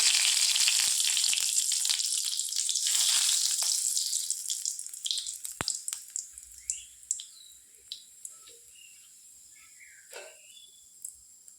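Dried chili, nigella seeds and fennel seeds frying in hot mustard oil in a wok, a steady close sizzle that fades over several seconds into scattered pops and crackles.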